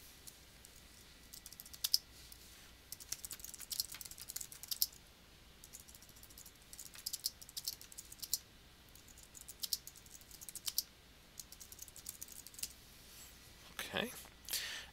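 Light clicking keystrokes on a computer keyboard, typed in short irregular bursts while someone enters a wiki summary in Moodle, soft and close, with speech partly present.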